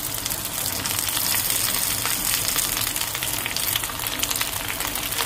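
Fresh spinach lands in a pan of fried onions, which sizzle loudly and steadily up close. The hiss stays dense and unbroken throughout.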